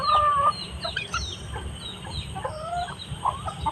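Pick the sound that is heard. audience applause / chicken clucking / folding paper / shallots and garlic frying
chicken clucking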